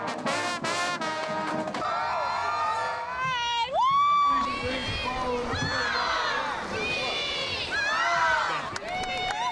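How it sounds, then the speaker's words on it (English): A downtown crowd at the Houston Rodeo Parade cheers and shouts without pause, children's high yells rising over the steady roar, close and loud throughout. "The Houston Rodeo Parade always gets the crowd going."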